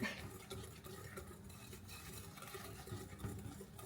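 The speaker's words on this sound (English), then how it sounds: "So I'll be here mixing, whisking." Tiramisu mixture whisked by hand in a bowl, a steady busy scraping and stirring that runs the whole time with no pauses, close up and moderately quiet.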